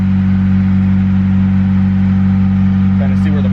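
A turbocharged D16Y8 Honda Civic four-door sedan makes a dyno pull with VTEC off, giving a loud, steady engine drone that holds at a constant pitch throughout.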